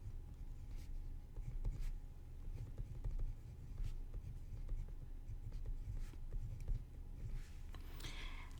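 Pen or marker scratching out a calculus formula, a steady stream of soft strokes and taps running throughout, close and fairly quiet.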